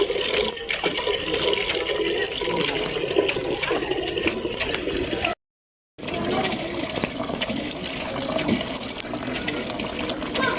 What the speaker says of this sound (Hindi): पानी थोड़ा क्यों दे रहा है नलका।